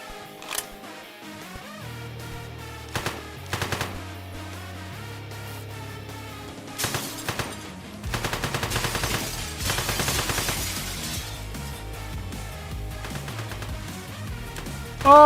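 Video game gunfire comes in short bursts of rapid shots, some quick rattling volleys and a few single cracks, over a steady musical soundtrack with no speech.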